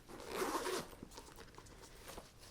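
Zipper on a Minooy Naya small crossbody handbag being pulled open in one steady rasping stroke, fairly close and quiet, followed by fainter rustles and handling noises as the bag is opened.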